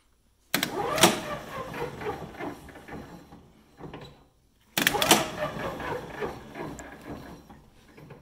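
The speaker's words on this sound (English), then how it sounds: "as I press it, you hear the motor turn. So that's, this contactor is closing" A lithium golf cart's contactor clunks shut as the pedal is pressed and the motor whirs into motion, happening twice in close succession with sharp onsets and fading whirs.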